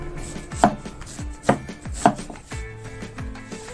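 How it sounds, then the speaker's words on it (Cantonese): Knife chopping large pieces of ginger on a cutting board, with a handful of sharp, distinct chops spaced unevenly and heard close up and clear, plus a few softer knocks between them; no voices. "你切大啲嘅薑嚟出水"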